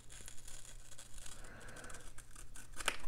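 Scissors snipping through planner paper at a desk, a quiet, close, steady cutting with a few sharper snips near the end.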